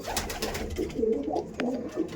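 A female Kalanka pigeon held in a person's hands gives soft, throaty coos in a few rounded bursts, close and fairly quiet, with a brief sharp rustle partway through.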